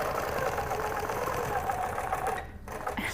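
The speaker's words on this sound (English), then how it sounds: "then just stitch around" A sewing machine stitches steadily around a quilting template ruler, a continuous mechanical whir running unbroken until a brief pause near the end before the motor picks up again.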